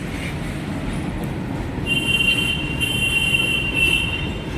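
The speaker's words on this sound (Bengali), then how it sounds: "এটা ঝলঝলিয়া স্টেশনের দিকে যাচ্ছে ট্রেন" A long freight train of container wagons rolls past beneath an overpass toward Jhaljhalia station: a steady, loud rumble of wheels on rails with a thin, sustained metallic squeal rising midway and lasting to the end.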